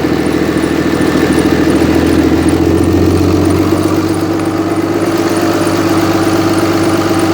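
A 2005 Dodge Ram 3500 diesel engine idles in a cold shop after an alternator replacement, a loud, steady low rumble that runs throughout without talk.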